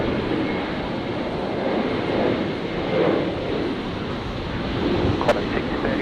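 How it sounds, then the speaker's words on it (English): Virgin Australia airliner on its takeoff roll at Brisbane, a steady broad jet roar swelling and easing slightly over a few seconds, mixed with wind-like rush and no talk. "Catch the departing Virgin 73, which is on the roll."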